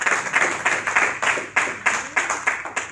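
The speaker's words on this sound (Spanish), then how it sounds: "¿Cuánto dan un aplauso más al Señor?" A church congregation claps in unison for the Lord during a sermon, with sharp rhythmic beats at a brisk steady pulse and no talk over them.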